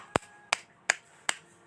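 Hand tapping on the side of a bonsai pot to loosen the plant before removal, five sharp, evenly spaced knocks close up with quiet gaps between them and no talking.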